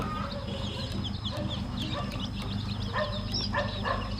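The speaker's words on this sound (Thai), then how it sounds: "นี่ เล็กฮอนนะครับ เป็นไก่ขนสีขาว" One-day-old white Leghorn chicks fill the space with a dense, steady chorus of high peeping chirps, many birds close together in a brooder, continuous and busy throughout.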